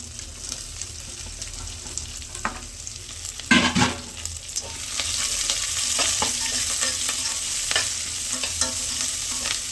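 Green chilies and onion sizzle in a hot pan, with a steady frying hiss, a burst of stirring and scraping near the middle, then stronger sizzling to the end.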